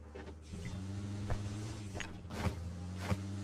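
A vehicle engine in the BGMI battle-royale video game hums steadily with a low droning tone, punctuated by a few short sharp clicks and bursts of higher noise.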